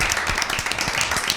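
Studio audience applauding a correct answer at an Easter Bible quiz show, a dense and even burst of clapping from many hands that carries on steadily without talk.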